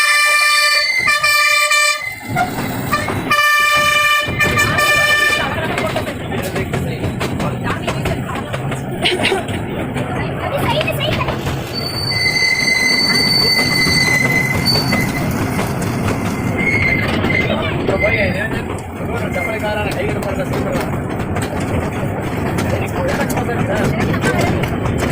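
A train at the railway museum in Mysore blasts a loud horn for a few seconds. Rumbling rail noise and wheel squeal follow and continue steadily, with people talking over the sound.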